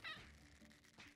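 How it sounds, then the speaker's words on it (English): A cat meows gently in the video game Genshin Impact, a short, soft mew at the start followed by faint low background sounds, heard alone without talk. "that was a cute meow"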